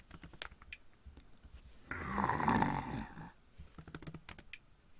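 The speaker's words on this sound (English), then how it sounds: "A heavily armored guard leans against the wall, snoring." A heavily armored guard leaning against a wall snores in the Exile video game, one long rasping snore rising in the middle, framed by sharp keyboard clicks before and after.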